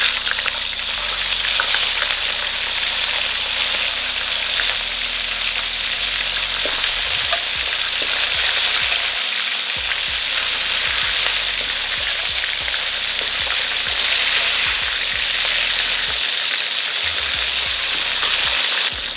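Potatoes, chilies and onion sizzling in a pan for taco filling, a steady loud frying hiss with occasional stirring scrapes and crackles, continuous and close.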